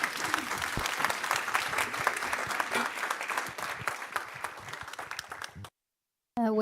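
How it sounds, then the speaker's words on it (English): Enthusiastic applause from a conference audience at JuliaCon 2024, sustained dense clapping for several seconds before cutting off abruptly into silence. "round of applause, please"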